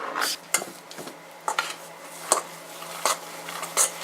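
Dog cookie dough mixed with rosemary in a bowl: a utensil scrapes and clinks against the bowl in irregular strokes, fairly close and quiet, with no talking.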